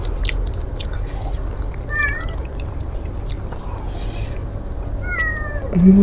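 A cat gives a couple of short, high meows over a steady background hiss, with a louder low sound near the end.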